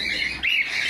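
Cockatiel at a breeder's aviary in San Fernando, Pampanga gives a loud, close, harsh squawk, a sustained shrill call breaking briefly mid-way, no voices.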